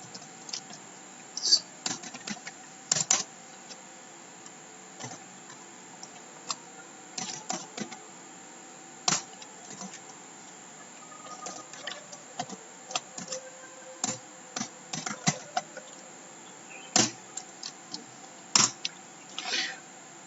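Keys clack on a computer keyboard while Python code is typed, coming in scattered short bursts and single taps over a quiet background, with no voice heard.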